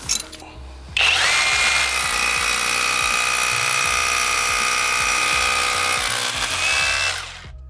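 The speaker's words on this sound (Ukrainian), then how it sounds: "давайте зараз спробуємо з різними бурами, як він працює" A Revolt cordless rotary hammer drills with a bit, kicking in after a second and running loud and close for about six seconds with a rapid hammering pulse under the motor whine before winding down.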